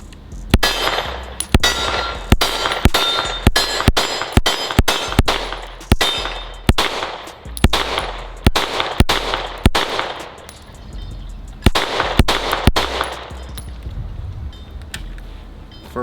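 A Springfield Echelon 4.0C pistol fires a rapid series of sharp shots, each followed by a metallic ring of bullets hitting steel targets, in quick bursts with short pauses between.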